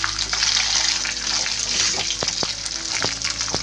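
Dried red chillies frying in hot oil for a spicy lemon chilli chutney, a steady close crackling sizzle throughout with a few sharper pops near the end.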